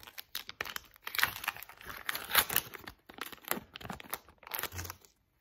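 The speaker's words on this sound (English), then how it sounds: "Clean little rip there." Foil EURO 2020 sticker packet torn open by hand, a run of close crinkling and ripping bursts that come and go over several seconds, then stop.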